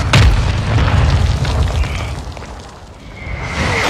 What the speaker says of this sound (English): Hostiles launched a mortar strike